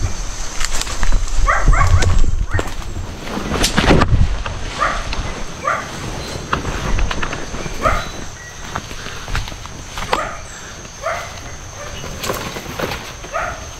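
Several dogs bark repeatedly at middle distance along a rural path, with footsteps and wind buffeting the microphone as someone walks past.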